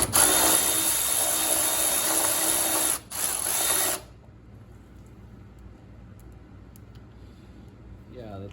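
A 3/8-inch ratchet clicks steadily against flat-headed impeller bolts on a Craftsman snowblower, loud and continuous for about four seconds with a brief pause, then drops to a faint, quiet background.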